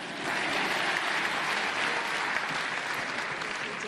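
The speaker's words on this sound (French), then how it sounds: "Sous vos applaudissements, Mohamed Salah pour la deuxième fois" A large awards-ceremony audience applauds Mohamed Salah, named African Player of the Year at the CAF Awards 2018, in sustained, even clapping that fills the hall at moderate distance with no voices over it.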